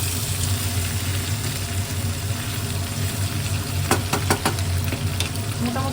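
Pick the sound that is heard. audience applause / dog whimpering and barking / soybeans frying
soybeans frying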